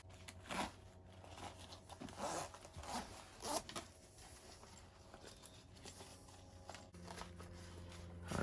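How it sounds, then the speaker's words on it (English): A zipper on a life vest is drawn closed in several short, scratchy pulls with brief pauses, close and fairly quiet, followed by soft rustling of fabric. "Alright, and then I'm gonna re-zip it."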